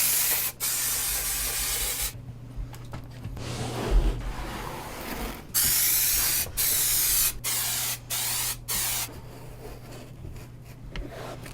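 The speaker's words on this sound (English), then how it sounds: "I've used a lot of different spray adhesives. The 3M 90 I think is the best." Repeated bursts of 3M 90 spray adhesive, hissing in several long and short blasts with brief pauses between, close by over a low background hum.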